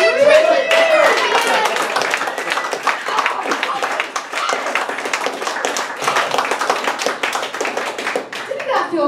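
Audience applause at a Greenwich Village comedy club during a stand-up set, steady dense clapping that fills the room for most of the stretch, loud and close, tapering slightly toward the end.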